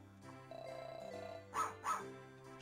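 A small dog in a Casio Loopy video game gives two short yapping barks over quiet electronic game music, faint and synthetic-sounding.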